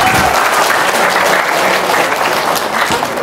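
Loud, close applause from an audience, a dense wash of many hands clapping steadily at full strength across the whole stretch, with a slight easing near the end.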